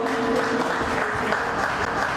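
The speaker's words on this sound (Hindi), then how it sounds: "एक बार जोरदार तालियां हो जाए everyone" Brief, dense applause from an audience at a dealer and distributor award function, steady clapping throughout with little else.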